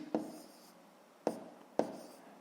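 Chalk or marker strokes on a board during a sixth-grade maths lesson, four short sharp scratching bursts spaced about a second apart, each fading quickly, close and fairly quiet with no talk.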